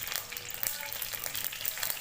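Mustard seeds sizzle and crackle in hot oil for tempering a chilli chutney, a close, steady fizzing with small popping bursts.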